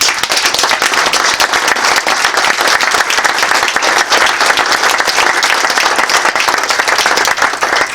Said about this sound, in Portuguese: a quem eu peço uma grande salva de palmas